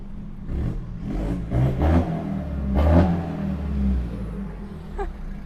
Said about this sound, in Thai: ข้างหลังหน้ามีท่อซิ่งหนึ่งใบ เดี๋ยวจะเบิ้ลให้ดูนะจ๊ะ